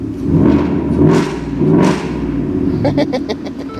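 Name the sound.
vehicle engine revving loudly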